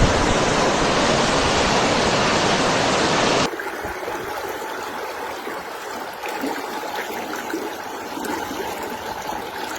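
Floodwater from a collapsed perimeter canal rushes through the streets of Los Alcázares, Murcia, Spain, a loud, steady broadband roar at first that drops after a few seconds to a lower, churning wash of flowing water.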